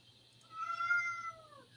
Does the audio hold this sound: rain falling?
no